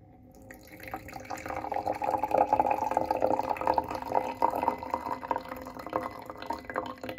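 Hot water poured from a kettle into a cup in a hotel room, a steady close liquid stream that rises and holds for several seconds before easing off slightly, with no talking.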